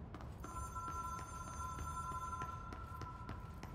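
A hotline telephone in the video game Control rings with a steady, bright electronic tone that holds for about two seconds under faint rhythmic ticking and low background hum, fairly quiet and somewhat distant.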